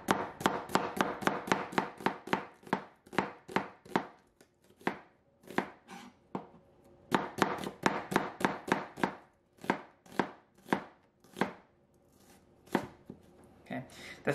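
A knife finely chops an onion on a board for a salmon foil pouch, striking in fast, close, crisp bursts of regular taps separated by short pauses, with no talk over it.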